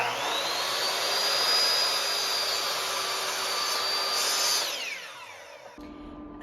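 A miter saw makes a bevel cut in wood for a TV frame. Its loud, high motor whine holds steady for about five seconds, then spins down and fades out, with no voices.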